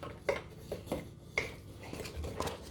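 A spoon mixing ingredients with coarse salt in a bowl, several distinct scraping clinks spaced irregularly against the dish, close and fairly quiet, with no talk.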